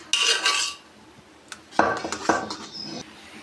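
Boiled green mango and sugar are stirred in a metal kadai: a bright scraping burst at first, a pause, then several short clinks and scrapes of a utensil against the pan.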